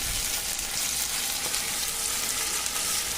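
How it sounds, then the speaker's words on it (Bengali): Ginger and garlic paste frying with onions in a pan, a dense, loud, steady sizzle filling the whole moment close by, with faint stirring underneath and no voices. "এবার আদা বাটা আর রসুন বাটাটাকে পেঁয়াজের সঙ্গে খুব ভালো করে কষে নিতে হবে।"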